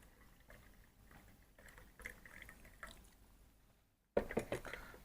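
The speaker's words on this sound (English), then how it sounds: "Let's pour our coffee here." Brewed Kenyan coffee pours from a French press into a cup, a soft trickling liquid stream that breaks off briefly and then returns louder and splashier near the end.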